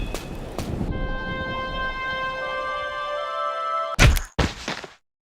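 Failed-jump sound effect from the Spider-Man 2 video game: a sustained tonal electronic drone with layered steady pitches, cut off by two sharp thudding hits before falling silent.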